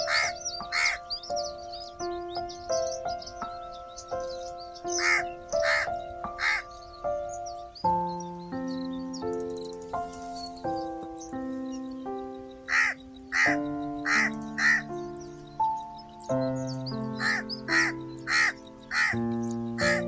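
Crows of a family group by a river caw repeatedly in sharp bursts, spread across the clip over a steady musical background.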